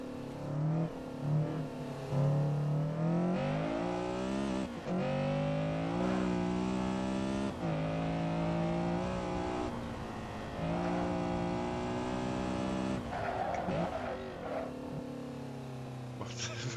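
Honda Civic SiR-II EG6 in Assetto Corsa on a time-attack track, its engine revving and rising through gears with shifts, loud and continuous while someone talks over it.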